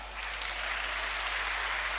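Applause from a church congregation, a steady dense wash of clapping held at an even level for a couple of seconds, moderately distant and with no voices over it.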